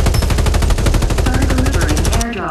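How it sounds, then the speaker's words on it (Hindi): Rapid automatic gunfire in the video game Farlight 84 rattles loud and continuous for about two seconds, then cuts off abruptly. "गोली चल रहा है लेकिन डैमेज नहीं लग रहा है"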